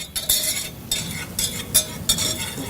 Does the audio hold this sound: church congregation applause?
no